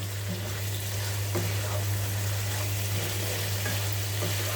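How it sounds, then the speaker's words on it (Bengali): Chicken curry made with whole spices and whole onions fries in oil over high heat, a constant dense sizzle with a steady hum underneath and occasional faint stirring knocks. "এটিকে আমি আরেকটু হাই হিটে দুই মিনিট এভাবে একটু দাঁড়িয়ে থেকে ভেজে নিতে হবে"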